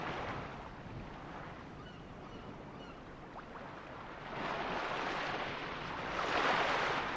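Boat at sea in the video game Suikoden IV: a soft, continuous wash of waves and wind that swells gently a few times, with no voices over it.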